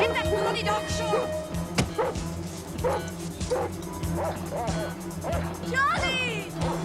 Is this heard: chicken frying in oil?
no